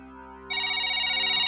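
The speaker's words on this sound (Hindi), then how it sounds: "एक जरूरी फोन आ गया, मैं एक फोन सुन लूं।" A telephone rings in a home, its ringtone rising partway through into a loud, steady electronic tone that holds to the end.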